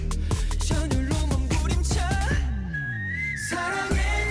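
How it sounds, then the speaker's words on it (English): A melodic whistled line over the music, rising and falling in short phrases with a long held note near the end. "That whistle."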